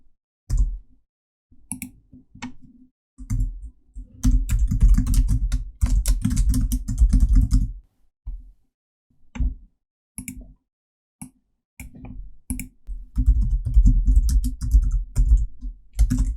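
Fingers type on a computer keyboard during Photoshop work, bursts of quick close clicks broken by short pauses, with no one talking.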